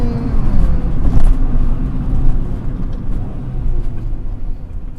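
A car's engine hums and revs at a racetrack near Buttonwillow, with a couple of rising blips as the driver rev-matches during downshifts under steady road noise.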